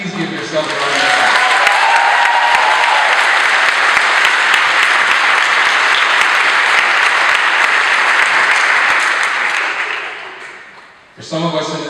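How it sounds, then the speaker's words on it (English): Audience applause at a Harvard Black graduation ceremony in 2016, a dense, steady wash of many hands clapping that swells in, holds loud for about ten seconds, then fades as a voice returns at the end. "Please give yourselves a round of applause."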